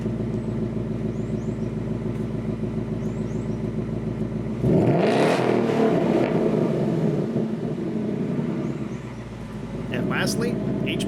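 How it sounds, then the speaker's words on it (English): A Ford Mustang S550 (2015+) with its factory exhaust in track mode idles steadily, then gives one loud, aggressive rev that roars and settles back to a throaty rumble, close by. "Factory exhaust on track mode."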